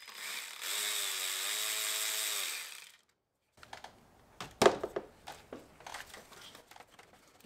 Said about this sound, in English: Seven millimeter socket. Just need to loosen it up a little bit.